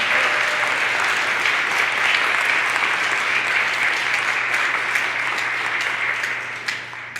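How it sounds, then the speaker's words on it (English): Sustained audience applause at an annual meeting, a dense and loud wash of many hands clapping together that holds steady and begins to taper off in the final second. "So can we give a round of applause to Sam, please?"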